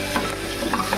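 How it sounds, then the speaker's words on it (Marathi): Cumin, onion and curry leaves frying in hot oil, a loud, steady crackling sizzle close up, with no talking. "तेल गरम झालंय, जिरा टाकलाय, कांदा आणि कढीपत्ता,"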